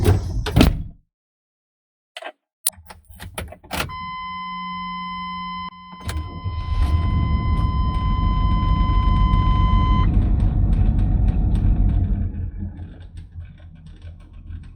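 Mid-90s GM farm truck cranking and firing up, with clicks and a door clunk first, then the engine catching and settling into a steady, fairly loud idle while a warning chime rings.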